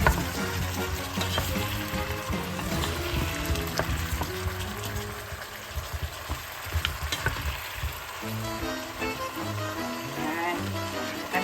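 Pork leg sizzles steadily in a hot pan while a utensil stirs and scrapes through it, with no voices.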